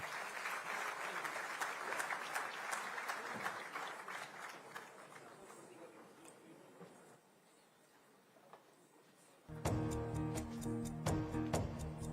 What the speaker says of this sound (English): give a huge round of applause for the art and the artist